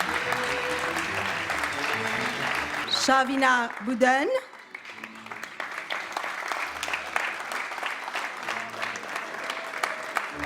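Concert audience applauding finalists as they receive trophies at a Mozart competition final, steady clapping throughout with a brief announcer's voice naming a finalist near the middle.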